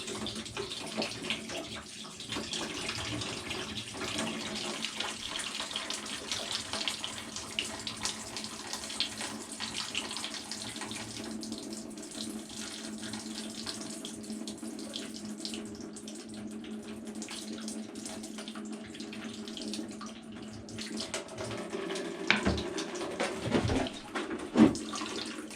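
On a 2009 Yamaha YZ250F dirtbike, water sprays and gushes out during a coolant flush, a steady close hiss and splash that carries on for the whole stretch with no one talking.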